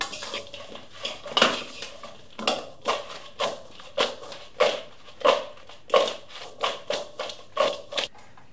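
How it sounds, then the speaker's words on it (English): Sliced apples are stirred with sugar and cinnamon in a bowl, giving steady rhythmic scraping and clinking of a spoon against the bowl, about a dozen close strokes with no talking. "I'm just going to mix that all through"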